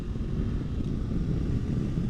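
Honda NX500 motorcycle idling through an aftermarket exhaust, a steady low rumble close to the mic with some wind noise mixed in and no talking.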